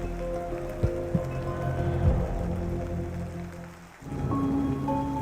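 Steady rain falls throughout, a dense hiss of drops on surfaces with a few louder splats, briefly dipping near the end before resuming at full strength.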